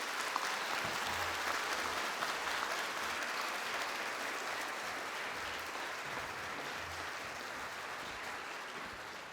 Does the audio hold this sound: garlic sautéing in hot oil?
no